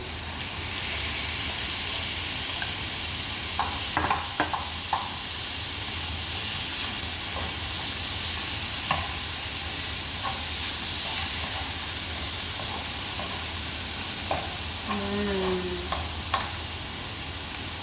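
Ground beef fries in a pan with a steady sizzle and hiss while a spoon stirs it, giving occasional scraping clicks, for Filipino-style spaghetti sauce.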